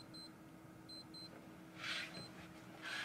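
A small electronic device gives short high beeps, single and in quick pairs, faint and fairly close against a low hum, with a couple of brief noisy bursts toward the end.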